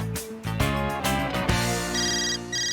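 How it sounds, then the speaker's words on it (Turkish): A telephone rings loudly and close by, with a repeating electronic ringtone that holds a steady rhythm over a few seconds and no talk over it. "Telefon."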